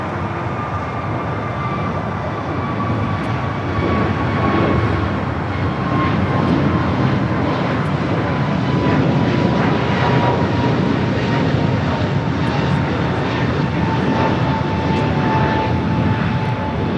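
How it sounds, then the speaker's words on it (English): A Japan Airlines Boeing 787 Dreamliner taxis at LAX toward runway 25 right, its engines giving a loud, steady broadband roar with a faint whine that gently falls in pitch and holds throughout. "Japan Airlines Dreamliner. Should be starting his taxi here shortly, heading to 25 right."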